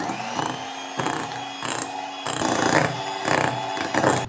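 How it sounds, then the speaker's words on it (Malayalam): An electric mixer beats butterscotch mix into whipped cream for ice cream, whirring loudly and close in short bursts that stop and restart several times, with no talk. "ഇത് നമുക്ക് നമ്മുടെ ക്രീമിലേക്ക് ഒഴിച്ചു കൊടുക്കാം എന്നിട്ട് ഒന്നുകൂടി ഒന്ന് ബീറ്റ് ചെയ്ത് കൊടുക്കാം"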